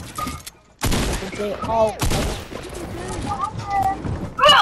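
Rapid bursts of gunfire from the Fortnite video game crackle in close, dense volleys that pile over one another, with a player talking excitedly over the shooting.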